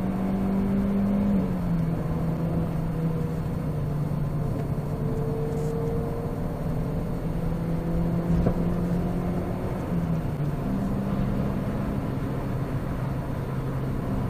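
A car engine climbing through the revs while accelerating uphill, a steady droning hum that rises and shifts pitch between gears over about fourteen seconds, heard from inside the car with no talk.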